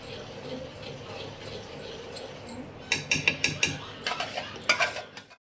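A spoon stirring mango malai kulfi batter in a bowl, soft swishing that turns into a quick series of sharp clinks and scrapes against the bowl near the end, close and alone.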